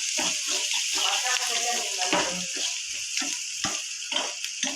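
A spiced mixture seasoned with salt and turmeric fries and sizzles in a pan, with steady crackling broken by repeated stirring scrapes and clinks. Close and fairly loud throughout.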